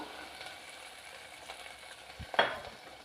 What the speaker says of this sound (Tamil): நல்லா வதக்கி விட்டுக்கணும் இது வதங்கட்டும்